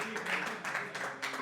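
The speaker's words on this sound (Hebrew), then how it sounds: "קודם כל כפיים ליוספי" Class of students applauding their classmate after a Talmud quiz, a short burst of rhythmic clapping from a small group in a room.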